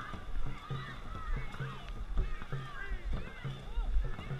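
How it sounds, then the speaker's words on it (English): Dragon boat paddles pull through water in a steady rhythmic stroke during a race, with splashing and wind under a caller shouting encouragement and timing. "Paddle through the wake."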